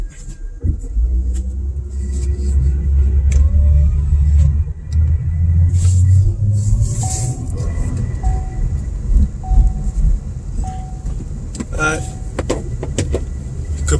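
A Chevrolet Caprice PPV police-package sedan fitted with new struts rolls along, its engine rumble and road noise steady and close, with a few brief clicks and knocks.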